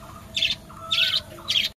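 Pigeons on a rooftop give three short, evenly spaced calls, close and clear, over a low background murmur, ending in sudden silence.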